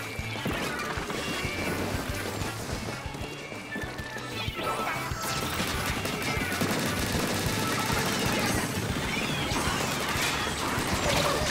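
Bombs burst one after another in the Splatoon 3 video game, their sharp cracks and splashy blasts piling up amid dense, constant game noise throughout.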